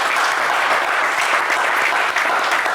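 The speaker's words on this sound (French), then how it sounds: "On vous applaudit, Rodrigue." A TV game show studio audience applauds a contestant, giving loud, continuous, dense clapping that stays even from start to finish.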